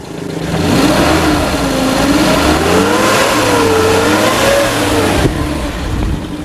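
A 2001 Suzuki Carry Futura 1.5 van engine revs steadily, its pitch rising and falling in smooth swells, loud and close, then settling back toward idle near the end.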